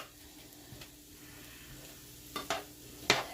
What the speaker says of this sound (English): we're going to start frying it